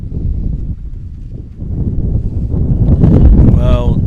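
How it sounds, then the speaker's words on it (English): A strong gust of wind buffets the microphone at an outdoor lawn bowls match, a loud, rumbling low roar that swells toward the end, with a voice faintly mixed in. "Karen's unfortunately copped a very strong gust there"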